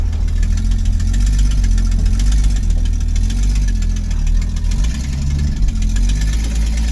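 A 1966 Ford Mustang V8 with an out-of-tune carburetor idles steadily up close, a loud, deep rumbling throb with uneven knocking pulses and a brief dip in rhythm near the end.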